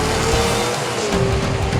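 Drag race car tearing down the strip, a loud sustained engine roar with tire noise as it gets slightly sideways, steady and close throughout.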